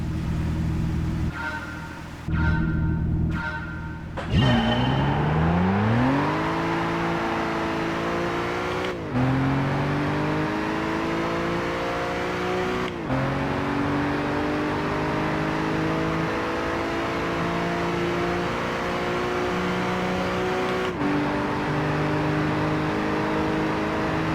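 A race car engine in Gran Turismo 5 revs and climbs through the gears, pitch rising in long sweeps broken by sharp shift points, loud and continuous after a brief drop at the start.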